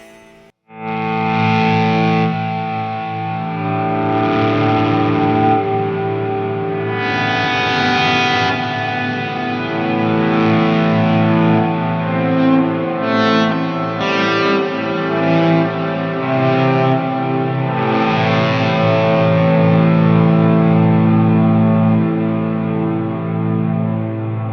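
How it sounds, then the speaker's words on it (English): Electric guitar played through overdrive pedals and a Lehle volume pedal, producing sustained distorted chords that swell and fade across the clip, loud and with no talk. "as it's going up with the full sound of the overdrives"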